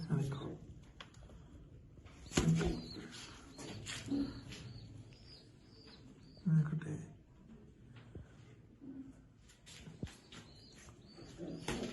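Domestic pigeons, a pair of black birds in a breeding loft, give a few soft low coos, faint and intermittent beneath someone talking close by.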